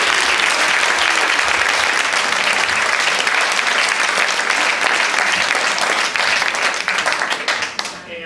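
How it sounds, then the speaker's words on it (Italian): Loud, sustained applause from a theatre audience at an Italian stage musical about Mother Teresa, dense clapping holding steady for about seven seconds before tapering off at the end. "E allora chiedo un ulteriore grande applauso."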